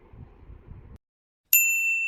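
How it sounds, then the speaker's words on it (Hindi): A phone starts ringing with a bright electronic chime after a brief stretch of quiet. Low murmuring comes before the ring. "किसी का फोन आ रहा है,"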